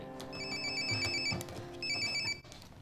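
A telephone rings in two bursts of bright, warbling electronic trills over a soft musical background, close and clear, then cuts off as the call is picked up; no one speaks.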